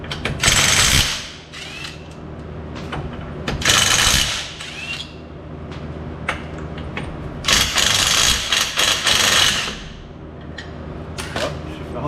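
Lug wrench ratcheting off 17 mm lug bolts from a wheel of a 1985 MK2 Golf diesel, giving several bursts of close, loud metallic clicking and rattling separated by brief pauses.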